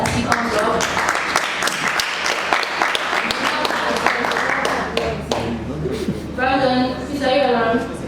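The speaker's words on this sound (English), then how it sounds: "So can we give a round of applause as he comes up?" An audience at a DevFest tech event claps steadily, a dense crowd applause welcoming a speaker to the stage, with a few voices and cheers rising near the end.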